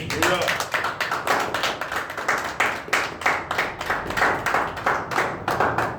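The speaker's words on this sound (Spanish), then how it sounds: "¿Quién aplaude fuerte?" A church audience at a Spanish-language Sunday service claps loudly in a fast, even rhythm, each sharp clap clearly separated and close, with faint voices mixed in.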